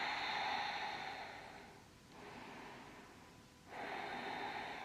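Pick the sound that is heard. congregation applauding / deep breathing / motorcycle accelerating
deep breathing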